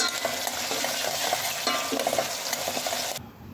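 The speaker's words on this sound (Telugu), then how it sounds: "4 స్పూన్ల నూనె వేడయ్యాక మసాలా దినుసులు, ఉల్లిగడ్డ ముక్కలు, పచ్చిమిర్చి ముక్కలు వేసి వేపాలి" Whole spices, chopped onion and green chillies fry in hot oil with a continuous sizzle and repeated stirring clatter, then cut off abruptly.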